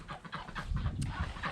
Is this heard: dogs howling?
no